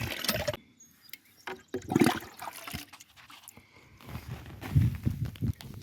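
Water poured from a container onto transplanted bean plants in a garden bed, a few gallons soaking into the soil, splashing and gurgling in uneven close bursts with brief pauses between pours.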